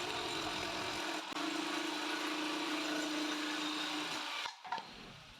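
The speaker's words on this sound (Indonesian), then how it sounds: "Kita masih akan memotong papan ini." A power saw cutting through a plywood board, a steady whining drone held for about three seconds that ends abruptly, followed by a few faint clatters, recorded fairly quietly.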